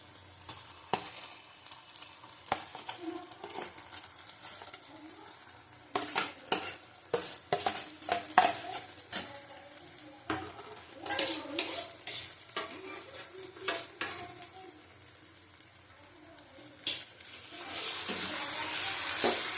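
Spice masala stir-fried together with mashed boiled potato in a pan for a Bombay duck (loitte fish) dish, giving steady sizzling under irregular scraping and stirring strokes that build louder toward the end, with no talk.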